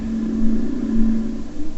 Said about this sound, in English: This is the sound of an experimental version of a stealth chopper.